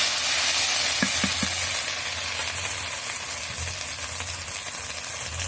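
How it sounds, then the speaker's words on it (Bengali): Ginger stirred through hot oil with cumin seeds, bay leaf and dried chillies in a pan for a pointed gourd curry, giving a steady close sizzle with a few quick scraping knocks of the spoon early on. "আদাটাকে ভালো করে নাড়িয়ে নিলাম।"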